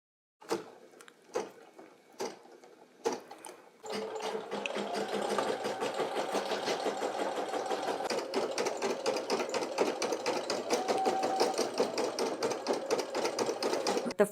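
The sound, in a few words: Brother PE800 embroidery machine stitching out a design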